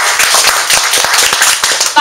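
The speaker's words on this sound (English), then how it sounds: "Give her a round of applause." Loud, close round of applause at a networking meetup, with sharp, distinct hand claps in a busy, uneven rhythm and a few voices mixed in.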